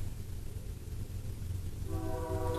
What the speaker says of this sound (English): God damn it, train!